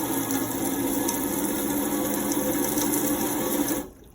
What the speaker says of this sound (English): if the water's coming through like it is now, then you're good to go